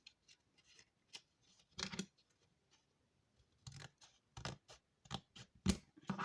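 Scissors cut through folded paper along the crease to make paper pockets: a series of crisp, close snips, sparse at first and then coming in quicker succession, with quiet pauses between.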